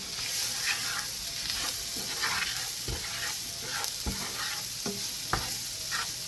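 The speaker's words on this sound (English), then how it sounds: "I'm also going to add in the seasoning. And I'm just going to stir that really well." Seasoning is stirred into a sizzling pan while sautéed potatoes are being cooked. A steady frying hiss continues as a utensil scrapes and taps the pan in a loose, repeated rhythm.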